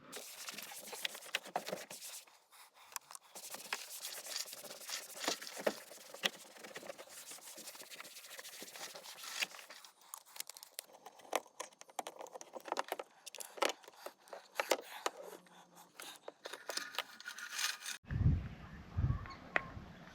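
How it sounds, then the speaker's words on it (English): A cloth scrubbing and wiping cleaner over the bumper bar of a Mitsubishi L300 Express van, faint quick rubbing strokes in an irregular rhythm, ending with a louder rustling thump. "We're going to give the bumper bar a wipe over with this stuff"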